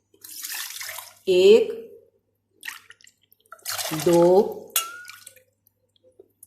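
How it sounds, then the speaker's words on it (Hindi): Water poured cup by cup into a vessel while cooking semolina halwa, brief splashing pours between a woman's counting speech in a home kitchen. "इसी प्याली को 4 प्यालियां हमने ये पानी की लेनी है।"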